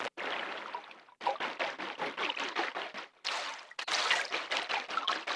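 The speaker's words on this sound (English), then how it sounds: "That literally sounds like someone's like splashing the water, you know, with their hand or something" A synthesized water-splashing sound from an Elektron Tonverk plays as a run of rhythmic sloshing bursts, like a hand slapping water, with short gaps between groups, close and steady, with no talk over it.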